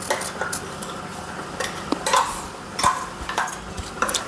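Ground coconut stirred into boiling buttermilk in a pot, a spoon clinking and scraping against the metal in irregular taps over a low bubbling background, close and moderately loud.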